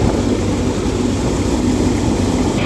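A Punni thresher machine driven by a Swaraj 855 tractor runs steadily and loudly, a dense continuous mechanical roar with low engine drone, heard up close with no talk.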